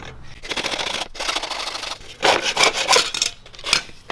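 A piece is cut off a strap during modifications to an Intex Challenger K1 inflatable kayak. Close, scratchy cutting and rubbing sounds come in uneven bursts over a few seconds.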